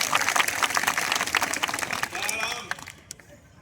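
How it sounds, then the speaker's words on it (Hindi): An audience at an outdoor poetry recital claps in a dense burst of applause that swells and then fades out over a few seconds, with a voice speaking faintly over it. "एक बार ताली बजाओ"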